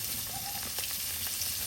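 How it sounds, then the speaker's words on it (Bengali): Tilapia fish fry in hot oil in a pan, giving a soft, continuous sizzle with faint crackles, fairly quiet and steady throughout. "অনেক সুন্দর করে লাল লাল করে মাছটা ভাজা হয়েছে"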